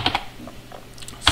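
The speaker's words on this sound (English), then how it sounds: "type in my username" Several quick keystrokes on a computer keyboard, a few scattered clicks close up with brief pauses between them and a sharper tap at the end.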